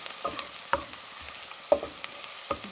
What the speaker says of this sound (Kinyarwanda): Igitunguru cyacu rero reka tugikarange kugeza gihiye kigahindura ibara kikaba umukara.